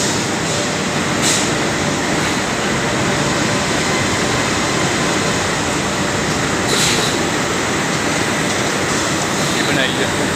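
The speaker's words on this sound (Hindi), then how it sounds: "ये फ्लैट पैड की प्रिंटिंग मशीन वो जो आप देख रहे हैं" A 12-color flatbed printing machine running, a dense, continuous mechanical roar with a few faint clicks, steady throughout.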